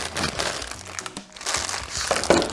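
Close plastic packaging crinkles and rustles in uneven bursts as packaged resin bag handles with a bamboo effect are unwrapped, with a brief pause midway.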